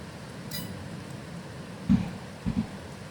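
Steady rain in Farming Simulator 22, a soft even hiss of falling water that fills the whole stretch, with a couple of dull low thumps late on and no one talking.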